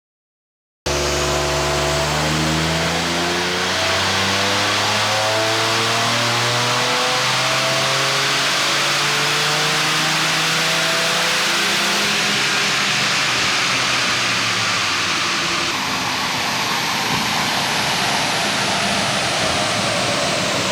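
A tuned Toyota GR Yaris engine revs hard on a dyno, pitch climbing through repeated long pulls with a loud, close, sustained roar and rushing roller noise, and no talking.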